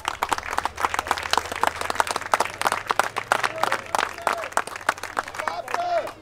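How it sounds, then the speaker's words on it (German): A crowd claps for TSV Barmke at a Türk Gücü Helmstedt Bezirksliga championship celebration, loud sharp claps in a fast irregular stream, with a voice speaking over them and cheers rising near the end. "Erstmal ein Applaus an TSV Barmke"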